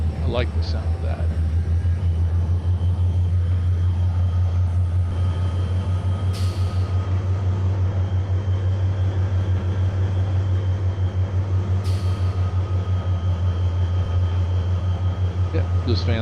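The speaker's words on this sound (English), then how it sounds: "You may now start your train forward." A train in the Trainz 2022 railroad simulator rolls forward with a steady low engine drone and rhythmic pulsing, joined by a couple of brief hissing bursts, constant and close throughout.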